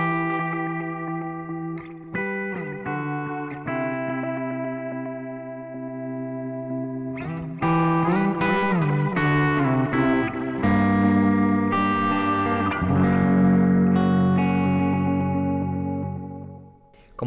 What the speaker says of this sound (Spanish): Y la otra imperfección es la saturación, una cierta distorsión del propio eco.